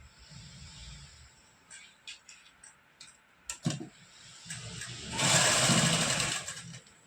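Sewing machine stitching a salwar, a faint series of soft ticks and clicks building into a louder continuous whirring run near the end.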